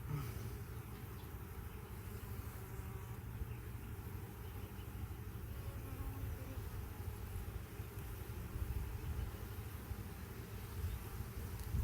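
Honey bees hum in a continuous low drone, a busy swarm at a hive buzzing steadily close by with faint background noise.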